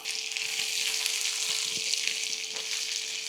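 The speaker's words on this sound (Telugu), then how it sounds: "ఇదిగోండి ఉల్లిపాయ వేసేస్తున్నాను," Onions sizzle in hot oil in a pan for a Telugu egg poratu, a steady loud hiss with light crackles throughout.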